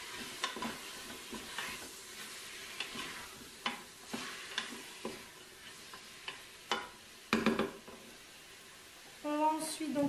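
Onion and garlic sizzle softly in a pan while a spoon stirs them, giving a quiet hiss broken by irregular clicks and scrapes, with a voice briefly heard near the end.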